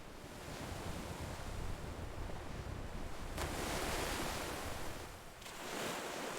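Ocean waves surge and crash in a steady roar, with a broad wash of surf rising and falling across several swells, loud and unbroken.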